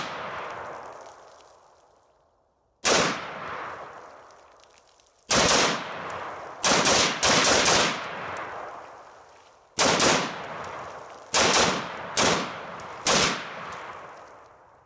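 Rapid semi-automatic rifle fire through a Tac Con 3MR positive reset trigger: loud, close shots in quick bursts of two to four, separated by short pauses, with sharp ringing echoes between bursts.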